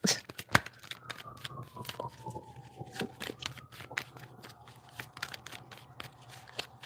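Playing cards are shuffled and riffled close up in a quick, crisp run of flicks and snaps, with a faint siren drifting by in the background on a New York street.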